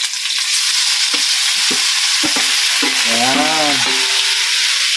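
Shelled mussels sautéing in a pan with chili, a loud, continuous sizzle and crackle throughout, with a brief spoken word and a short melodic voiced sound partway through.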